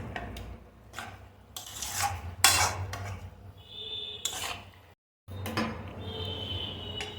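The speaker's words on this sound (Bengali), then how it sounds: "এবার ম্যারিনেশনগুলো ভালো করে চিকেনের সাথে মিশিয়ে নেব।" Chicken being mixed by hand with its marinade paste for chicken Afghani, with scraping, rubbing and clinking against a metal bowl in irregular bursts and a brief silent gap, no voices.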